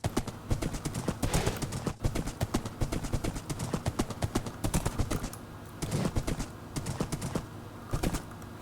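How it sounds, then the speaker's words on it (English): Rapid clip-clopping of horse hooves in Minecraft Bedrock Edition, a steady trotting rhythm of sharp clops running throughout at close range with no talking over it. "Clippity clop, clippity clop, clop,"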